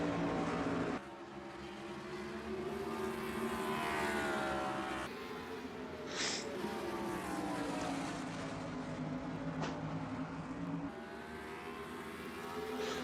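Ford Fusion race cars at Bristol roar past in a tight pack, a loud layered engine drone with shifting pitch and cuts between passes, no voices.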